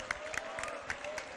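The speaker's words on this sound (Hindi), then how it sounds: "सभी का इंदौर से जितनी भी कमेटी के सदस्य आए उनका अभिनंदन तालियां बजाकर कर दीजिए।" Faint, brief crowd clapping at a Jain religious ceremony at Chandragiri Tirth in Dongargarh, heard from a distance as a soft patter of hand claps with a few sharper claps.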